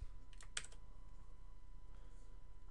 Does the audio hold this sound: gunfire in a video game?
no